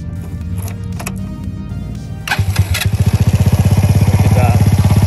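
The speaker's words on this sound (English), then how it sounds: "That's how a well-built bike should start right up." A custom Honda Ruckus scooter engine cranks, fires up and settles into a loud, rapid, steady running putter close by, with voices talking over it before and during the start.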